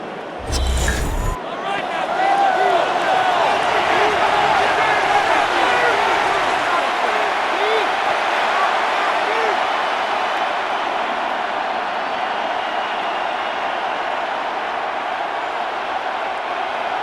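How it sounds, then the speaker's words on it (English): A stadium crowd in Madden NFL 26 roars steadily during a Commanders versus Packers game, a dense sustained cheer with whistles, after a brief thump at the start. "This crowd into it now as we get to 3rd down."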